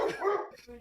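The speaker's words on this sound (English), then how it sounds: "who has the dog barking?" A single dog barks in quick bursts, close and fairly loud, heard on a group call.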